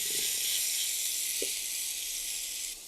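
Ginger garlic paste hitting a spoonful of hot oil in a pan, a steady bright hiss and crackle that holds close and fairly loud, then cuts off abruptly.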